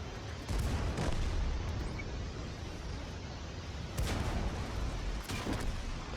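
Tank cannon shots in the World of Tanks video game, with a few deep booming blasts spaced seconds apart over a steady rumbling battle background.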